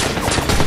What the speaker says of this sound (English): Shit, they got us pinned down! Damn, I'll take care of the machine gun.